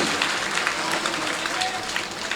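An audience at an all-India mushaira in Nanded breaks into applause, a steady wash of clapping from a crowd heard at moderate distance and fairly faint, with a voice audible over it.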